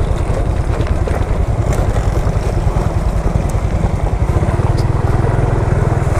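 A Honda XRM 125fi motorcycle rides downhill on a dirt trail near a dam, its engine a rough, continuous low putter mixed with heavy wind buffeting on the microphone, close and loud throughout.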